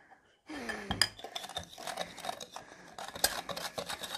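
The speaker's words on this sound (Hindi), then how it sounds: "मैंने शुरू कर दिया मिक्स करना मैं ऐसे देखे मिक्स कर रहा हूँ जैसे कोई अंडा फेंट रहा होता है" A utensil clinks and scrapes against a cup or bowl while dalgona coffee mixture is whisked by hand. The strokes are quick, close and irregular, with metallic chinks and no speech.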